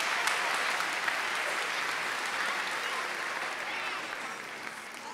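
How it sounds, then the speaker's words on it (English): A school audience at an elementary spring concert claps for the student performers, a dense, steady round of applause that fades slightly toward the end, heard from within the crowd. "Give these students one last round of applause."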